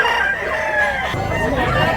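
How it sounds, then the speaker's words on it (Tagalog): Close, loud crowing from a big-sized two-year-old rooster at a market in Tabunok, Cebu, one long call fading and then followed by another, set against background chatter and clucking. "Gwapo manok ka dun."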